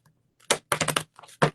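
Quick crisp riffling bursts of cards being shuffled, a few short clattering flurries separated by brief pauses, close and fairly quiet.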